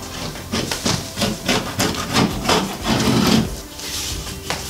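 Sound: scraping drywall corner bead with a 6-in-1 tool

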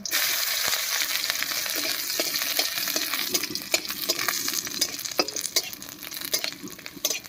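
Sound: frying dry chillies and garlic in mustard oil in wok

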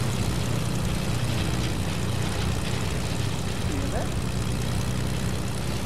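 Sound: airplane engine in Fortnite video game

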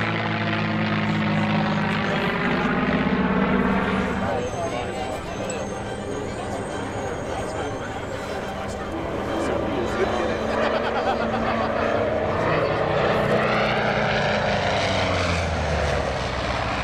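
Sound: classic aircraft pairs display flying passes at Oshkosh

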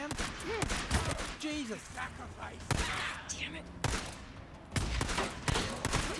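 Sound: sniper gunfire in video game Days Gone

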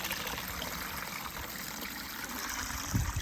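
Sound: spring water pouring into a container

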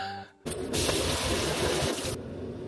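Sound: shower water running

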